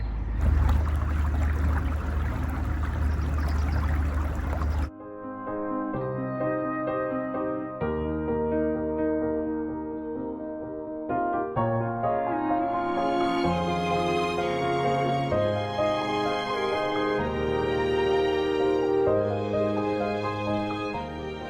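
A narrowboat's engine rumbles low and loud on a canal for about five seconds, then cuts away as instrumental music takes over for the rest.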